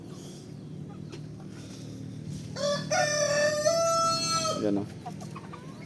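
Native chickens in a coop cluck softly, then a rooster gives one loud, clear crow lasting about two seconds over steady background noise.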